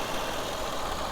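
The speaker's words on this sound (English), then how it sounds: "supercharged V6 engine," A supercharged V6 in a 2017 Jaguar F-Pace S idles in the engine bay, a steady, even hum with a low rumble, heard close up and alone for a brief moment.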